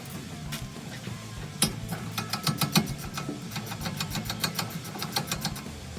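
A rapid run of sharp, evenly spaced metallic clicks sounds as the 14mm rear brake caliper bolts come off a Honda Beat. The clicks ride over a steady low workshop hum.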